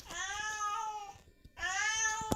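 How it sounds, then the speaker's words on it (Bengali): A cat meows twice indoors at home, two long, loud, close calls separated by a brief pause, with a sharp tap near the end. "তাহলে সবাইকে বিড়ালটা দেখিয়ে আসি।"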